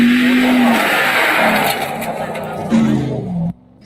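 A 6,200-pound Ram TRX truck's engine roars loudly and rises in pitch, then surges again before cutting off abruptly.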